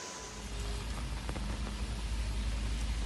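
Heavy rain pours steadily during a downpour in Delhi, a dense, continuous hiss of water drumming on surfaces with no voices, close and loud throughout.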